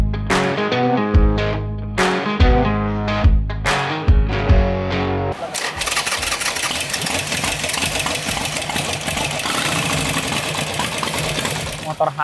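A Harley-Davidson Sportster 1200 boardtracker motorcycle idles with a steady, rough, loping rumble that takes over after several seconds of rhythmic music, continuing evenly to the end.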